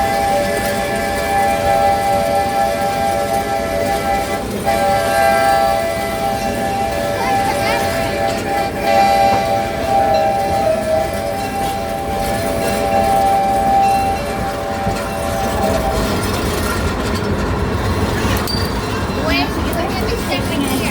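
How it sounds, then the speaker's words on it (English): Steady rumble and clatter of a theme park railroad train ride at Six Gun Territory, with a sustained whistle-like tone over the running noise and people talking throughout. "when the train comes to the stop, I will let you know if it's safe to go"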